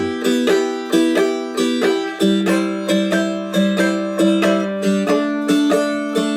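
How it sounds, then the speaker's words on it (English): A plucked strumstick strums chords in a steady eighth-note rhythm, each strum ringing bright and close with no voices. "if you were to play the chord progression again using eighths, it would sound like this"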